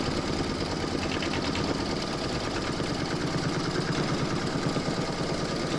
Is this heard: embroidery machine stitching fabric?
yes